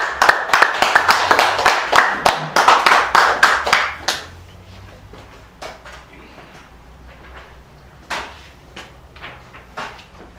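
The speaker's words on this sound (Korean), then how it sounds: "박수로 받아주십시오." Audience applause greeting a pastor invited to give opening remarks at a Saturday lecture event, a burst of claps lasting about four seconds and then thinning to scattered, fainter claps.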